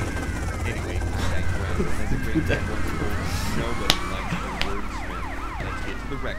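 Police sirens wail continuously in GTA: Vice City, with several overlapping rising and falling tones amid steady traffic and engine rumble, fairly loud throughout with a sharp crack near the middle.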